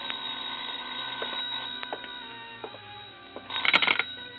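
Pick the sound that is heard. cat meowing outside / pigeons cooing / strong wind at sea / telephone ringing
telephone ringing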